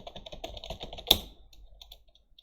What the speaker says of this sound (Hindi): ये मैंने टाइप कर दिया है